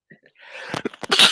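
A single sneeze during a watch party: a short, breathy build-up breaks into a sharp, loud burst close to the microphone.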